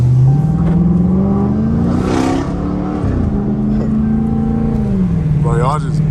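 Second-generation Dodge Charger R/T with blackout headlights, its engine revving up and holding a loud rumbling drone, then dropping and rising again, close by with people talking over it.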